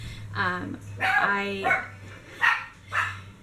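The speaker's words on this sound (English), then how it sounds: "that's my dogs barking, and Mom yelling at them" Dogs bark and yip in the background, a few sharp barks rising between the steady tones of a nearby voice talking over them.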